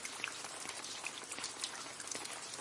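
Summer rain falls steadily, a dense patter of drops spread evenly across the short stretch with no other sounds.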